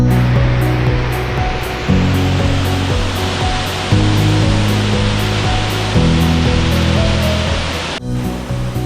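Baker's Falls in Horton Plains National Park, Sri Lanka, pours with a loud, steady, close-up roar of rushing water and a low droning tone underneath.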